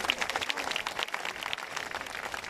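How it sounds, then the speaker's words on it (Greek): Crowd applauding the Olympic torch bearers at the 2024 Olympic flame ceremony in Democracy Square, Xanthi: dense, steady clapping from many hands, moderately distant and continuous throughout. "Και ένα μεγάλο χειροκρότημα για τους λαμπαδρόμους οι οποίοι μεταλαμπαδεύουν όλη αυτή τη φλόγα"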